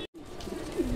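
A pigeon coos softly a few times, low throaty calls close by after a brief silent gap, with light background noise.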